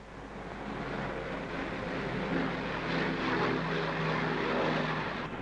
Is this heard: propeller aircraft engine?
yes